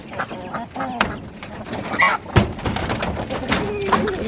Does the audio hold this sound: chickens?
yes